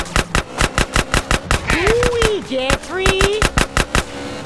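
A rapid, regular burst of loud gunfire in GTA San Andreas, broken briefly by someone speaking over it before the shots resume at the same quick pace.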